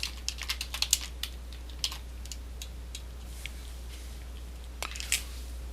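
Fingers tap on a computer keyboard in quick, light clicks, a dense flurry at first, then thinning to scattered keystrokes over a faint steady hum.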